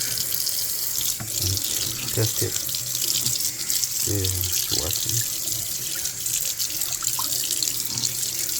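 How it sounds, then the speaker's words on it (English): Water running from a kitchen faucet into a sink, fitted with a newly installed InSinkErator Badger garbage disposal, a steady loud close-up rush throughout, with brief speech over it. "Turn on the water and"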